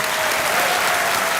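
Steady audience applause from a live TV comedy show crowd, dense and continuous throughout, with no talk over it.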